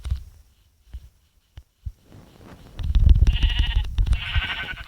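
Sheep bleat twice, loud and close, over rustling and handling noise outdoors with a few soft knocks beforehand.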